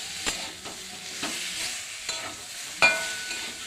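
A curry base with turmeric is stir-fried in a pan, a steady close sizzle broken by several sharp scrapes and knocks of a spoon stirring.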